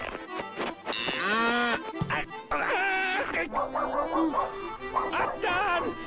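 A cartoon cow lets out long, drawn-out moos close by, interleaved with loud, agitated human voices in an animated cartoon.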